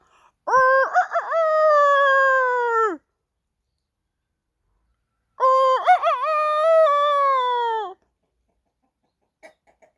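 A woman imitates a rooster crowing in two long, loud, wavering calls with a pause between, alone with no other sound, beside a spring vegetable garden after rain.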